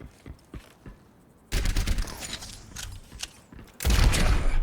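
A Soldier rocket jump in the video game Overwatch on the Junkertown map: loud bursts of blast and gunfire, with a sharp explosive hit midway and another heavy boom near the end.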